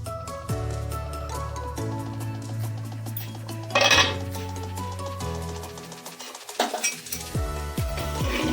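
A lid comes off a handi pot of cooked mutton with a clanking metallic clatter and a brief rush of steam, surrounded by clinks and taps of metal utensils, close and loud, with no voices.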